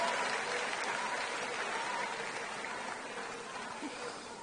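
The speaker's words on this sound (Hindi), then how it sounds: "जोरदार तालियां देश के प्रधानमंत्री नरेंद्र मोदी जी के लिए।" A crowd applauds Prime Minister Narendra Modi at a Delhi event with Chief Minister Rekha Gupta. The clapping is loud, dense and steady throughout and fades slightly near the end.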